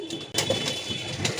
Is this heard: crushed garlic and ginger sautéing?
no